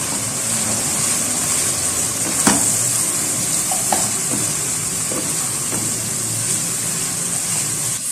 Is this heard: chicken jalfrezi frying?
yes